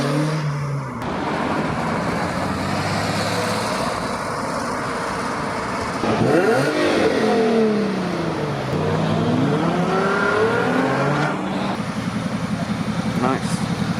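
Cars at an outdoor German-themed car meet with Porsche, Audi, VW and BMW models, engines running and revving steadily throughout with rising and falling passes, loud and close, with people talking over the noise.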